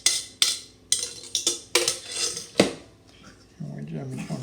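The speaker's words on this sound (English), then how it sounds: "we're going to take and just dump our wet mixture over into our cornmeal" A wet mixture is dumped from a bowl into cornmeal for old-fashioned country cornbread. A quick series of clinks and knocks of a utensil against the bowl gives way to a softer scraping, all close by with no talking.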